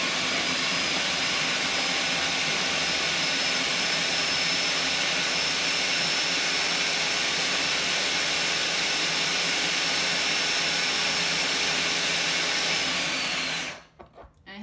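Blender running continuously at high speed, whirring raw vegan spaghetti sauce with basil and black pepper, a loud steady drone that cuts off abruptly at the end.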